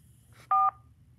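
A single telephone keypad tone for the digit 4 sounds once, a clean steady two-pitch beep lasting about a fifth of a second over quiet line hiss, pressed in reply to an automated line for a children's birthday club.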